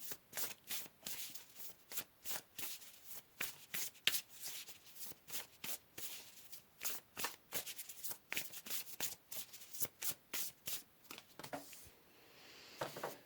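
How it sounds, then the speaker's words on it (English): Tarot deck being shuffled by hand, a long run of crisp, close riffling and flicking bursts in an uneven rhythm, then a softer card pull near the end. "Let's pull another card here"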